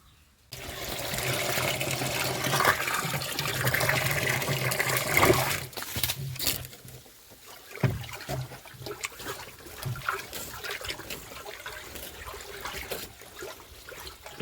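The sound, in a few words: water poured into a drum for mixing fertilizer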